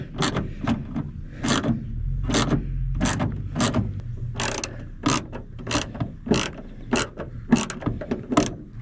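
A ratchet clicks in repeated quick bursts while snugging up roof trim fasteners on a 1999–2004 Ford F250 Super Duty, close and crisp with short pauses between strokes.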